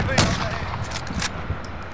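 Gunfire in the Call of Duty Warzone video game: a sharp burst of shots followed by scattered cracks and impacts, fairly loud, with in-game ambience and a voice talking underneath.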